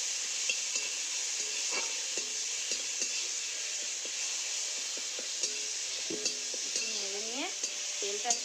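Coriander paste being stirred in a frying pan with oil, a soft steady sizzle under scattered scrapes and light spatula taps against the pan, close and fairly quiet.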